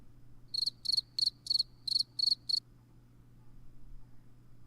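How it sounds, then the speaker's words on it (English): A cricket chirps in a quick run of seven evenly spaced, shrill pulses, crisp and fairly close, then stops, leaving a quiet low hum underneath. "You gotta keep the crickets going, man."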